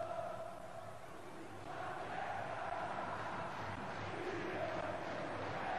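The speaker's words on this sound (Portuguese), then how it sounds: "a torcida do Vasco grita" A huge crowd of Vasco supporters roars and chants in the Maracanã stadium during the 2000 Campeonato Carioca final against Flamengo, a dense, steady wall of distant voices throughout.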